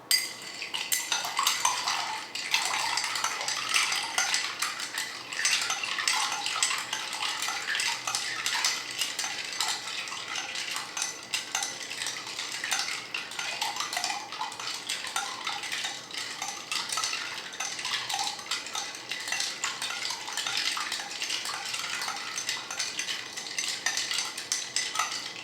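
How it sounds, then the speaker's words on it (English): A spoon stirs a Manhattan cocktail, with a tequila variation also being made, producing a continuous close metallic clinking and swirling of ice against the glass that runs steadily without pause. "I'm going to stir that just because that's how I usually make them, as I stir them."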